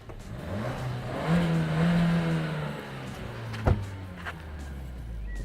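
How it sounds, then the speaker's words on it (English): A 2019 Suzuki Swift Sport with a sports exhaust is revved while parked, its engine climbing in a short rising burst, settling back to a rough idle, then blipping again with a sharp thump, heard close and alone. "Yeah, you want to hear it, don't you, revving, so just bear with me"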